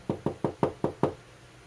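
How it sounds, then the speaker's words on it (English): Six quick, evenly spaced knocks rap on a house door, close and distinct, then stop, leaving quiet. "There was a knock on the door."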